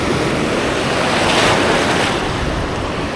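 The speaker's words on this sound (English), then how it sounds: "the waves are trying to kill me" Ocean surf roaring continuously and loudly against the shore, a dense wash of breaking waves mixed with gusty wind buffeting the microphone.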